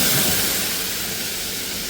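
Frozen chicken sausages hit hot oil in a pan, giving a loud, steady steamy sizzle and hiss that fades slightly but keeps going, with no one talking.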